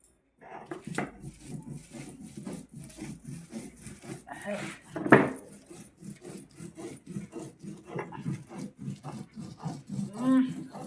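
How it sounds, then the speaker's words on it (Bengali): Green chilies being ground by hand on a grinding stone for a dried shrimp bharta: rhythmic rasping stone-on-stone strokes repeat steadily up close, with a few louder scrapes along the way. "এবার আমি কাঁচা লঙ্কাগুলো ভালো করে বেটে নিচ্ছি"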